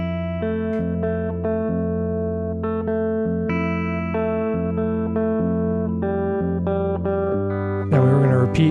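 A guitar with effects plays the slightly varied third-chorus part of a song, sustained chords moving steadily and up close, cut off near the end as a voice starts talking.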